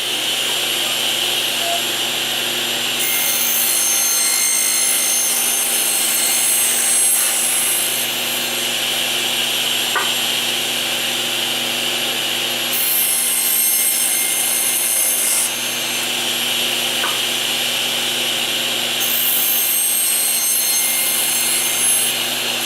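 A saw cuts small wooden pieces for display stands, with a steady loud machine whine and recurring passes of brighter cutting noise, running continuously.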